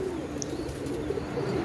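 Pigeons perched on a rooftop give soft, repeated low cooing calls in a gentle rhythm, close by, with a quiet ambient background and no talk.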